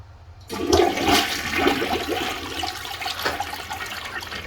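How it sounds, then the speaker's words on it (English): A toilet flushes after its neglected bowl has been cleaned with an acidic cleaner, a loud rushing swirl of water that starts abruptly and then drains and refills steadily. It is close by, with no talking. "And we'll flush one final time."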